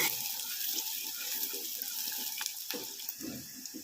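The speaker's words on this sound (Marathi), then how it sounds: "कांदा असा छान थोडासा तांबूस होऊ द्या परतून घ्या थोडा" Onion sautés in oil in a pan for a dried bombil and drumstick curry, giving off a soft, continuous sizzling hiss with occasional light stirring scrapes.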